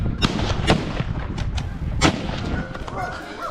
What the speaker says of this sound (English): Rapid gunshots echoed, and the animal collapsed under the hand of the professional hunter.